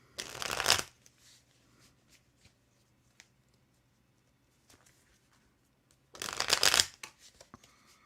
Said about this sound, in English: Olivia, I'm pulling a card for you right now.